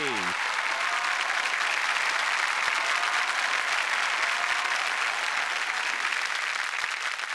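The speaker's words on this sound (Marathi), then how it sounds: "जोरदार टाळ्या झाल्या पाहिजेत द महेश मांजरेकर आणि अश्विनी भावे यांच्यासाठी" A studio audience at a Marathi comedy show applauds loudly and continuously to welcome actor-director Mahesh Manjrekar and actress Ashwini Bhave, filling the whole stretch with dense, even clapping.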